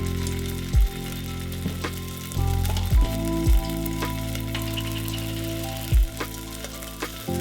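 Garlic frying in hot oil in a pan for homemade ramen, a steady close sizzle with a few sharp pops and spits breaking through at irregular moments.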